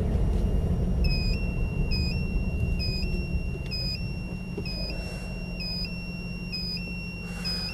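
An indicator warning buzzer added to an automatic Triumph Stag beeps in a steady, regular rhythm of two-tone electronic pulses about once a second, heard inside the car over a constant low engine rumble.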